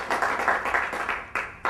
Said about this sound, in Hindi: इसमें तालियां बजाने वाली कौन सी बात है?